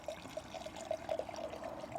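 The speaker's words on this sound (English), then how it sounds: "Let's go ahead and pour this up." A 2020 vintage red wine is poured into a glass, making a soft, fairly quiet trickling pour with a faint gurgle that runs steadily for about two seconds with no talking.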